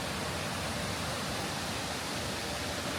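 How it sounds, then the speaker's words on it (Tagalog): A waterfall near a mountain village in cold February weather, heard as a dense, even roar of rushing water, faint and constant for a few seconds, with no voices over it. "ang sarap kasi maririnig mo yung waterfall"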